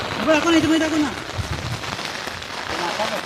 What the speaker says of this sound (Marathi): एकदम का आलाय पाऊस हो